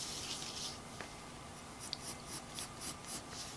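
A pen scratches a line across a handmade mask, quiet and close, with a run of short rhythmic strokes toward the end and no talking.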